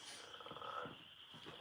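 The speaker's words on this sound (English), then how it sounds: "hear them frogs over there?" Frogs croaking outdoors in the distance, a faint rhythmic chorus of throaty calls under steady background noise.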